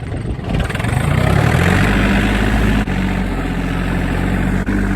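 A truck engine runs steadily and loudly as it drives toward mud in two-wheel drive, with a rough, constant low rumble that swells slightly early on and then holds, and no talking.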